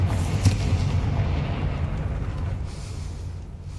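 A Confringo fire-spell explosion in the Hogwarts Legacy video game strikes a gate in Hogsmeade. A sharp burst opens into a heavy, rolling rumble that slowly fades away.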